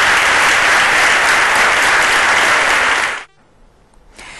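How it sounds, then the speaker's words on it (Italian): Long applause from an audience at a commemoration ceremony, loud, full clapping that cuts off abruptly near the end, leaving brief near-silence before faint sound returns. "culminata con lunghi applausi per Loris e la sua voglia di riscatto"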